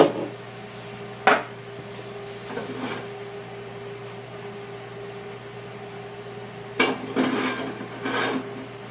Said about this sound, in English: Continue to smash these avocados.